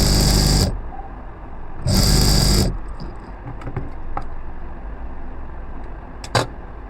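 An electric sewing machine stitches a zipper chain onto a pant fly front in two loud, fast whirring runs, each under a second long, followed by quieter handling clicks and a brief tap.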